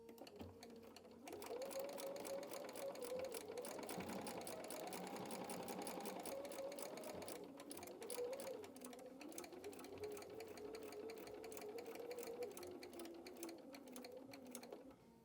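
A sewing machine runs steadily, stitching a partial seam on a fabric door banner, with a continuous motor whir and rapid needle chatter that sweeps in pitch as the pace changes, alone and close.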